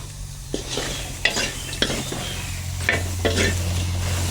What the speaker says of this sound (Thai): อันนี้เราจะคั่วให้มันแห้ง เนาะให้น้ำมันแห้ง